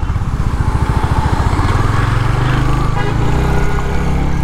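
A Royal Enfield Hunter 350 motorcycle rides through traffic on a potholed road, its single-cylinder engine thumping loud and steady and close up throughout, with a brief horn toot in the mix.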